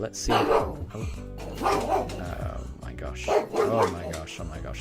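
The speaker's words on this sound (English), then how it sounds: "Why are you barking?" A pet dog named Daruk barks indoors in a UK home, several loud bursts in separate clusters, with a person reacting in exclaiming speech between and over the barks.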